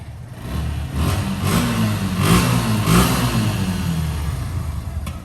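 A second-hand motorcycle engine rumbles to life and revs up and down several times, loud and close, settling into a steady idle.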